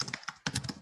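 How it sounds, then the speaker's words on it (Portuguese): Rapid clicking of a computer keyboard during a video call, a quick burst of close keystrokes under faint background, under a second long. "o teu teclado está bem alto"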